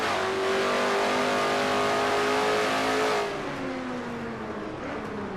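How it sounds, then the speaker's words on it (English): A race car engine in a racing video game holds a steady high-pitched whine through a corner, with the throttle eased and gently modulated before the pitch drops slightly, loud and continuous with no talk. "You hear him playing with the throttle just a little bit"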